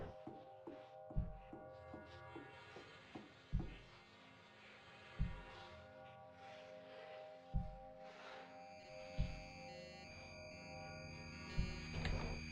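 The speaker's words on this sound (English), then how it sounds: "It's making modem sounds at us." Modem-like electronic warbling in the Sanguine Sanctum release demo video game: steady layered tones and buzzing drones, punctuated by a regular series of low thuds, with no talking.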